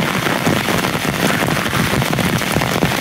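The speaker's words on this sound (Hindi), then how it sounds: "ये देखें सामने कितनी शदीद बारिश है और हर तरफ पानी ही पानी है" Heavy April downpour in Haripur, a dense, steady roar of rain pounding surfaces up close, constant and unbroken with no voices.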